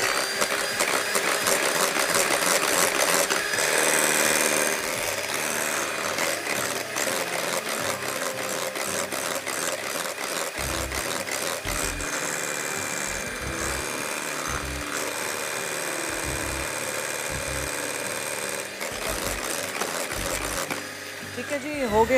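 An electric mixer whirs through madeleine batter in bursts, its motor buzzing on and off in choppy pulses with clattering against the bowl, loud and close.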